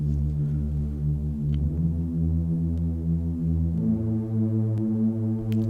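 Simple sustained synth pad layered for texture, soft held chords that shift once midway, warm and steady with faint tapping percussion touches above, smooth and continuous throughout.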